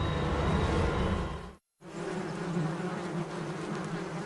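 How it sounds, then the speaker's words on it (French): A swarm of carnivorous wasps takes flight in a dense, continuous droning buzz, cut off by a brief moment of silence before the swarm's hum resumes. "Des escadrons de guêpes carnivores prennent leur envol."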